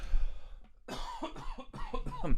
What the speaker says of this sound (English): Excuse me, I'm going to have a cough.